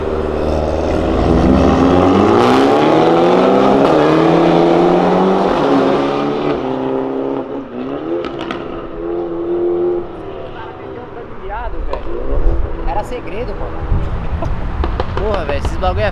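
A Ford Fiesta fitted with neon lights revs its engine hard on a city avenue, a loud rising and falling roar that eases off midway, followed by pops and crackles, with people talking and shouting over it.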